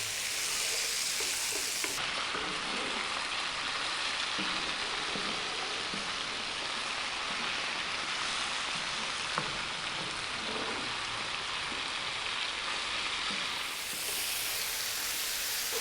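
Chicken and bell peppers sizzle steadily in a frying pan over fairly high heat, a dense, even crackle and hiss that runs unbroken and close up throughout, with no talking.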